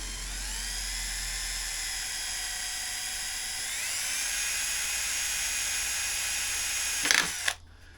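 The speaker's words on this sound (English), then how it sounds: "we'll grab a small drill and we'll just drill the end of the crack" A small drill bores into the end of a crack in scooter or motorcycle plastic, a steady high whine that rises in pitch partway through, then brief scraping bursts before it stops abruptly.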